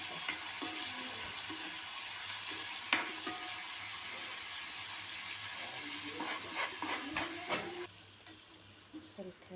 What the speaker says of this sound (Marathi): मोहरी चांगली तडतडली की त्यामध्ये टाकूया कढीपत्ता